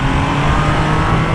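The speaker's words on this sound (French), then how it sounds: "on entend ce petit sifflement Triumph caractéristique des 3 cylindres" Triumph Trident 660 three-cylinder motorcycle accelerating on an open road, with a steady, loud engine roar and wind rush heard close from the rider's position.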